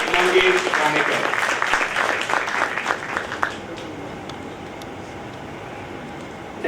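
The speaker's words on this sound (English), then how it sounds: "Can we have a huge round of applause for the chairman of Thane branch, Mangesh Ganekar." Audience applause at a chartered accountants' branch event in Thane, a burst of clapping that fades after about three seconds into quiet room tone, with a voice speaking at the start.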